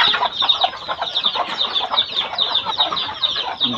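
Chicks chirp close by in a rapid, steady stream of high, thin peeps, with many birds calling over one another throughout with no pauses.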